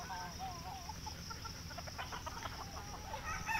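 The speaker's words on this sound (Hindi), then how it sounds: "देखिए मुर्गी कैसे लड़ रहे हैं" Free-range desi chickens fight, clucking and squawking in agitated bursts, with a rooster-like call among them, over steady background noise at moderate distance.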